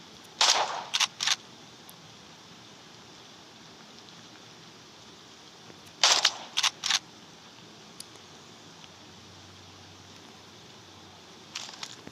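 Gunshots sound in a hunting video game, crisp sharp cracks in quick clusters of three or four, one burst near the start and another midway, with fainter shots at the end over quiet background hiss.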